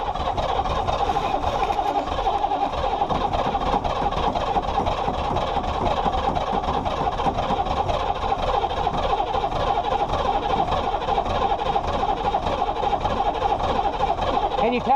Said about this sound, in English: Can you tell it's a diesel?